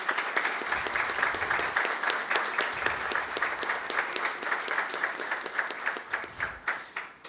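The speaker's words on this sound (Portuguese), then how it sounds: "Merece os nossos aplausos, por favor." An audience at a lecture at a regional bar association hall bursts into sustained applause, dense many-handed clapping that holds steady and then thins out toward the end.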